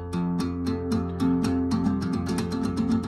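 Guitar chords from a song strummed slowly in a steady up-and-down rhythm, each stroke ringing clearly, played alone without voices.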